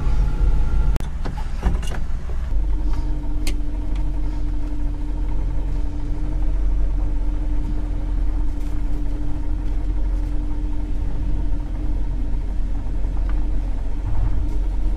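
An RV driving around town, heard from inside as a loud steady engine and road rumble with a droning tone, a few clunks and clicks near the start, and no talking.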